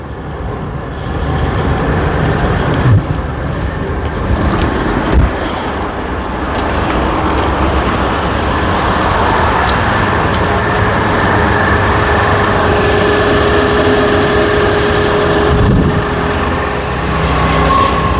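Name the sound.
car engine running with AC belt squeak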